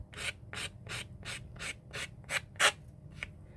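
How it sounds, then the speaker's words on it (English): Nail file rubbing the scalloped edge of a paper napkin, about ten quick rhythmic scratchy strokes, close and crisp, with no talk. "with the scalloped edge, or any edge, you can do it with a nail file"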